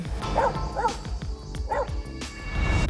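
A dog barks in a film scene, several short yips and bow-wows spaced about half a second apart, fairly close over low background noise.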